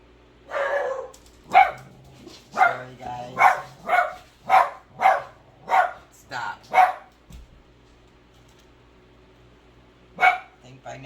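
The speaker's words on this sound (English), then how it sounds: "now we all know the routine of my dogs. They're barkers." Several dogs bark in a quick run of about ten sharp, fairly close barks, then a pause and one last bark near the end, with a quiet background.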